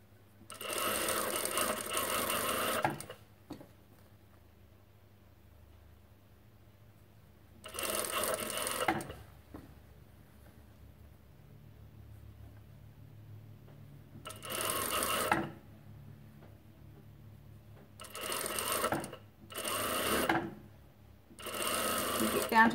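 Domestic sewing machine stitching a seam in knit fabric while making an off-centre twist top, heard in several separate bursts of steady whirring with quiet pauses between them and no talk.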